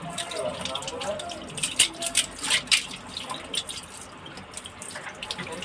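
Tap water runs and splashes in irregular bursts as hands scoop it up to wash a face, close and moderately loud, with a person talking over it.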